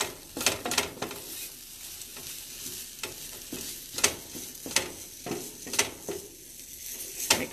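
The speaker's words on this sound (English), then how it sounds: "Give that a bit of stir." Pasta primavera sauce stirred in a hot pan, a soft sizzle broken by repeated sharp utensil scrapes and taps against the pan at irregular intervals, heard up close without talk.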